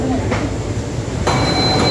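Mumbai Metro Line 3 underground train at Santacruz station, a close, loud rumble with metallic clatter that swells sharply partway through.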